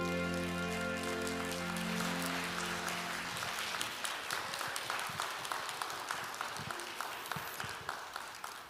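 A church audience at a new-members worship service breaks into applause as a sung performance's sustained final chord fades, the clapping swelling into a steady patter that continues alone.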